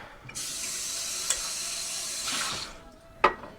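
Water runs steadily from a kitchen tap for about two seconds as items are rinsed beneath it, then cuts off and is followed by a sharp knock.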